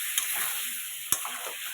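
A ground paste of poppy seed, peanut, cumin, coriander and chili fries in oil for a tilapia curry, giving a steady hissing sizzle with two sharp spatula taps against the pan.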